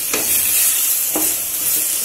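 Tomato chutney being stirred in a frying pan, two brief scraping strokes over a steady background sizzle, fairly close and without talk.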